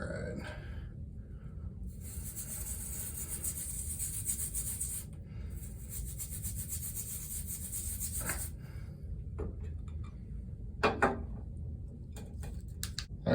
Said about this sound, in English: Toothbrush bristles are going to be nice and brittle, so they're going to start working away at the stuff that's on there